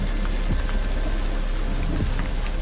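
Heavy rain pours steadily with a dense hiss, while low thunder rumbles faintly underneath; no voices.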